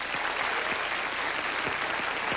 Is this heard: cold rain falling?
no